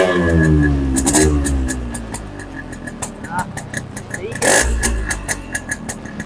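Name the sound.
Yamaha RX-G motorcycle engine starting and revving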